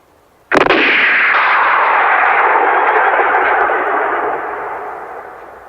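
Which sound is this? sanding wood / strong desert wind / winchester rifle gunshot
winchester rifle gunshot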